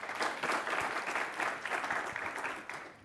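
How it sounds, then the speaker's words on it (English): A crowd claps hands together in a dense, steady round of applause lasting a few seconds. "clap your hands if you say Moonjaro"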